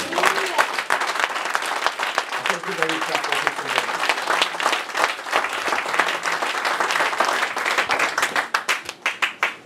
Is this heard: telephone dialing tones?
no